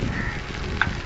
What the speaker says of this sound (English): You can see the vegetables sizzling in.